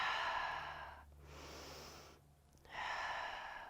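A deep, slow breath taken during a side body stretch in a yoga-style floor workout, with a long airy inhale, a brief pause, then a strong exhale, close and clear over a faint steady hum.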